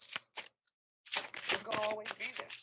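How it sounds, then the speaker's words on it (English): Tarot cards are shuffled in a quick run of crisp riffling clicks and flutters, close and fairly quiet, after a few isolated taps and a brief pause. "Why am I shuffling these cards?"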